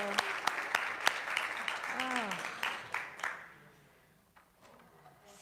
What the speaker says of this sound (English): Let's give Haley another round of applause.